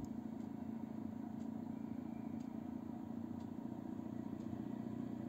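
An electromagnetic pulse motor running on a bench, current-limited at about half an amp, gives a steady whirring hum with faint regular clicks roughly once per second, heard alone.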